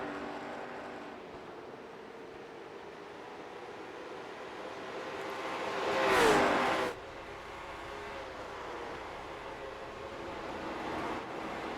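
Race cars running at the New Hampshire track, a steady distant engine drone with one louder car sweeping past at close range midway before the field fades back to a low hum.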